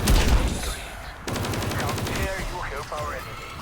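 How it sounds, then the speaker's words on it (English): Crystal axe gun firing at orbs in Cold War Zombies, a rapid burst of loud gunshots in quick succession with fizzing energy effects, while a voice talks over the shooting. "recommend highly using the crystal axe gun variant on these orbs to go ahead and destroy them faster"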